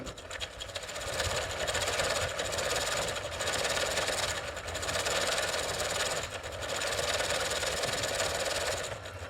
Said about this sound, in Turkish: Biraz gaz verelim.